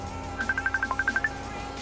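A phone rings with a quick electronic melody of about a dozen short bright beeps in a steady run, close and clear over a low background hum.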